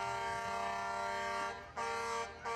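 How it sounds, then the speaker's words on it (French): Loud, sustained vehicle horns blare at a Christmas parade, a rich brassy tone held for over a second, then cut into two shorter blasts, close and without speech. "t'entends les klaxons"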